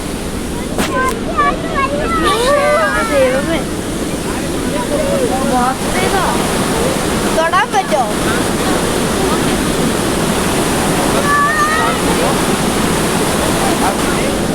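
Water crashes and sprays at the bottom of a waterfall in Switzerland, a loud, steady roaring rush with wind buffeting close by, while people talk and exclaim over it.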